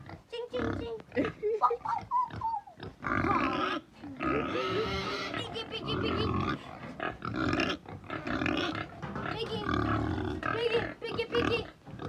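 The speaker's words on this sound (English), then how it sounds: "see the pig out here" A pig grunts and squeals outdoors on a Jamaican homestead, loud and close, with repeated bursts over a busy mix of voices as people talk and call to the animal throughout.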